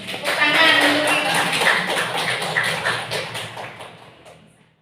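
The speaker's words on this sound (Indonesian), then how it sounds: "Tepuk tangan untuk kita." Clapping from a group of schoolchildren in a classroom, a dense burst of many hands that swells quickly and then fades out over several seconds, with voices mixed in.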